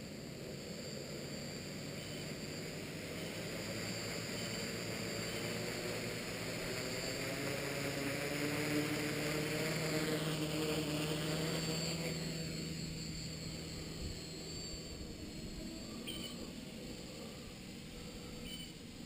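Tricopter drone flying under radio control from a Turnigy 9x transmitter, a steady propeller whine and hum that swells and then eases over about twenty seconds, heard alone without talk.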